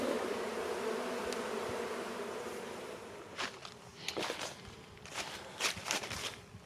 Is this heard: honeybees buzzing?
yes